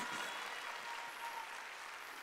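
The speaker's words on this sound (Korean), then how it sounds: "박수." Brief, steady applause from a church congregation during a Sunday worship service, dense and continuous with no voices above it.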